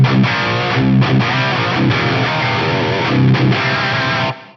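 A PRS electric guitar runs through the FM9's USA Lead mid-gain amp model, playing a short burst of overdriven lead notes and chords, loud and sustained, before it stops abruptly.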